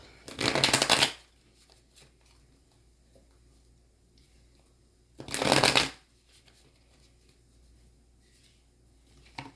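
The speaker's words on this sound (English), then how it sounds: "I'm gonna shuffle this up" Two separate bursts of tarot card shuffling, each about a second long, crisp and close, with quiet pauses between them.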